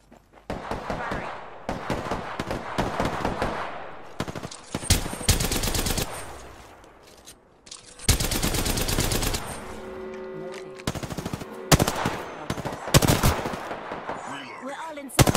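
Gunfire in the Apex Legends battle royale, with bursts of automatic shots and single loud cracks throughout, some close and heavy, broken by brief pauses, while a voice talks over parts of the action.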